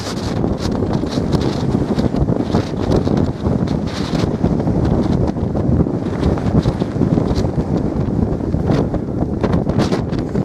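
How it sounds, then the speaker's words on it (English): Powerful wind blasts hard and continuously against the mic near the summit trig point of Sugarloaf Mountain, a dense rushing roar with rapid buffeting and no let-up. "That's the strength of the wind!"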